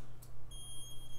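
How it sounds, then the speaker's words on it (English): Active electronic buzzer from a 4-bit digital clock kit, powered by a CR2032 coin cell, gives a brief faint steady high tone that starts partway through and runs to the end over low background hum. "That's an active buzzer,"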